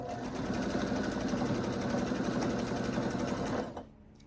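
A sewing machine chain-stitches quilt block pieces in a fast, steady whir of needle strokes up close, then stops abruptly near the end, leaving quiet room tone.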